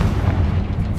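A Confringo spell blast explodes in Hogwarts Legacy as one loud, deep, rumbling boom that fills the short moment on its own, with no voices.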